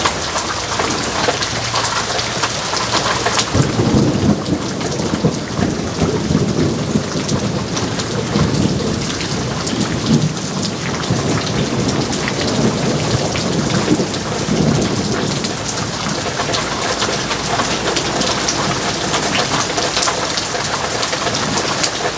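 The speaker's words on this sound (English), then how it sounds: "I can practically hear the ground sighing in gratitude for this rain." Heavy rain pours steadily on surfaces outdoors while deep thunder rumbles roll through, loud and continuous with no voices.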